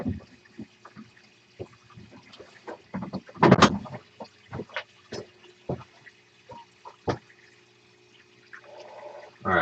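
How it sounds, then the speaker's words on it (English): Liquid organics are poured off in a shed, heard as a run of close, irregular splashes, glugs and sloshing bursts with one louder gush in the middle, among small knocks and handling noises and no talking. "Give me a second while I pour them off."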